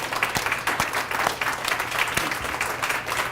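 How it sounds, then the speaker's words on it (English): A small group claps steadily for a few seconds, the hand claps dense and uneven, moderately close with no voices over them. "I'm going to give you guys a round of applause right now."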